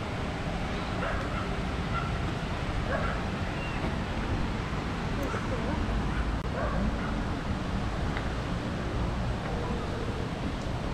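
Two dogs bark back and forth across a riverbank on a cherry-blossom-season walk in Xizhi, New Taipei, their calls fairly distant and blurred into a steady outdoor background noise.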